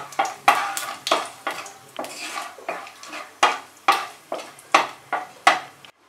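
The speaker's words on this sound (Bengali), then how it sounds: "1/4 টিস্পুন কালো জিরে ফোড়ন দিলাম, একটা শুকনো লঙ্কা দিলাম, 10 সেকেন্ড এটাকে ফ্রাই করে নেব" Black cumin seeds and a dried red chilli in hot oil, stirred in quick, regular scraping strokes against the pan, with a faint sizzle beneath the rhythmic clatter.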